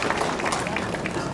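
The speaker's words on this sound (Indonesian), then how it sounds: "terima tepuk tangan" Audience clapping at a provincial governor's working visit in Maybrat, a dense, steady patter of many hands carrying on evenly throughout the short burst.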